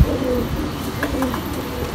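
Pigeons cooing softly amid a low background hum, a few soft throaty coos with faint chirps, no talking.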